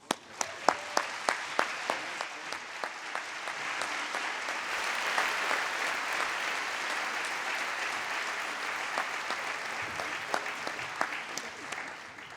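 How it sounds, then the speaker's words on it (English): A convocation audience gives the Brian Sands Quintet a warm round of applause: steady, full clapping from a sizable crowd, with a few sharp individual claps standing out through the roughly twelve-second ovation. "giving a very warm round of applause for the Brian Sands Quintet"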